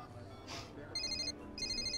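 A mobile phone rings with an electronic ringtone for an incoming call, two bursts of bright repeating tones close by, with faint background noise between them.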